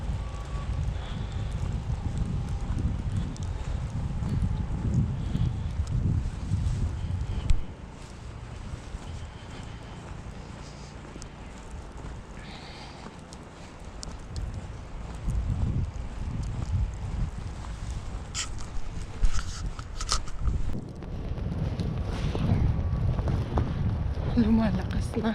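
Strong wind from a snow storm blowing in gusts, a loud low rumble with buffeting against the microphone that eases midway and then builds again toward the end.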